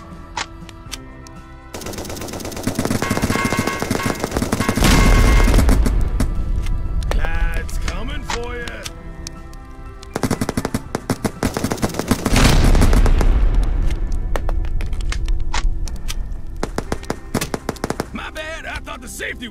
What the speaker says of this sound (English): I shoot, you die!